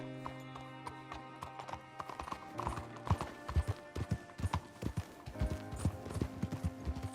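Horse hooves clip-clopping in Red Dead Redemption 2, irregular close thuds that quicken into a steady trotting rhythm, with a faint low voice early on.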